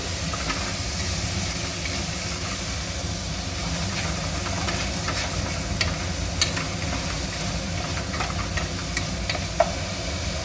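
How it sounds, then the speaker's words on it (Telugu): Onion frying lightly in a pan for Telugu-style dal khichdi, giving a steady close sizzle and hiss with occasional stirring clicks and scrapes throughout, no voices over it. "కొంచెం లైట్గా ఫ్రై కావాలండి ఇది ఆనియన్"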